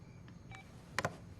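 A telephone at night gives a few short electronic tones, a couple of faint beeps followed by a louder double burst near the end, over a quiet background hum with no talking.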